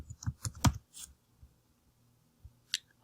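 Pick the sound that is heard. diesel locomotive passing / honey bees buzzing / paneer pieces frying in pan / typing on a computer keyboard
typing on a computer keyboard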